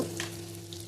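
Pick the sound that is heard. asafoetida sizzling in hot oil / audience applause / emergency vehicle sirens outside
asafoetida sizzling in hot oil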